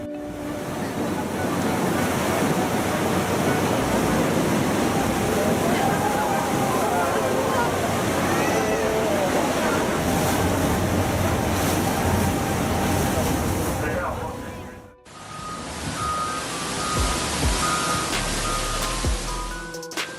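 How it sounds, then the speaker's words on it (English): A powerful natural whirlpool churns and roars, a dense, continuous rush of swirling, sloshing water heard up close for the whole stretch, with a brief break before the turbulent roar resumes. "a whirlpool so mesmerizing, they might think Poseidon himself is stirring the waters"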